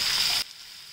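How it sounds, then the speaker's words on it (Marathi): Chopped onion hitting hot oil in a pan for a home-style cauliflower and pea curry gives a loud, close, hissing sizzle that cuts off sharply after about half a second, leaving only a faint, steady background hiss. "आता आपण कांदा टाकलाय, चिरलाय तो टाकूया. तो छान परतून घ्यायचा."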